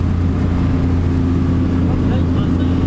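A fishing motorboat cruising at about 17 knots, with a steady loud engine drone and low hum running continuously, wind and water rush over it, and a voice talks above the noise.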